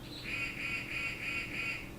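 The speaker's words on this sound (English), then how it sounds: "There's my bird clock again." A bird-themed clock chimes with a repeating bird call, five even honking, goose-like notes in steady rhythm, fairly close and clear over a faint low hum.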